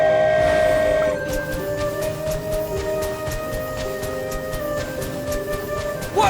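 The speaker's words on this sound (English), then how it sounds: "Whoa, it really is flying! What an amazing feeling! I've never been on a flying train before." A flying toy train in Genshin Impact rumbles along with a steady mechanical hum and sustained tonal drones, with a regular clicking rhythm like wheels over track joints, heard loud and close with no talking.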